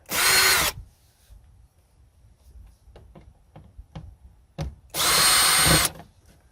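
A Makita 18V LXT lithium-ion compact cordless drill whirs in two short, loud bursts while backing out screws, separated by quieter clicks and handling knocks.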